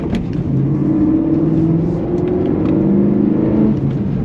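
BMW E92 M3 with its V8 engine and exhaust heard from outside the car, a steady loud, deep burbling drone with shifting harmonic tones, continuous throughout with no talking.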